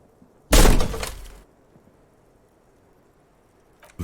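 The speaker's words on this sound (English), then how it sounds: "Bent metal, broken glass." A door in the game Disco Elysium is smashed open, one loud crash of bent metal and shattering glass that rings out for about a second, then fades to near silence before another impact starts.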